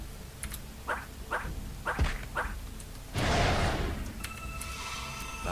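A puppy monster in the online game Baram (Kingdom of the Winds) gives a string of short, sharp yaps, about five quick barks spaced under a second apart, followed by a burst of game effect noise.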